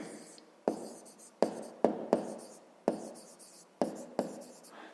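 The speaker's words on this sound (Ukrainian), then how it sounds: "Пишемо, оскільки." A pen writes on paper while working a fifth-grade maths exercise, close and quiet, with a series of sharp taps as it touches down, each followed by a short scratching stroke, about eight marks in a few seconds.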